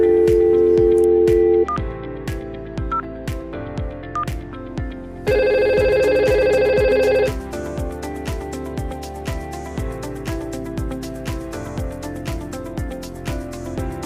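Ringing of a VoIP telephone in Cisco Packet Tracer, an electronic ring tone in two loud bursts over a busy ticking, repeating background, with no voices.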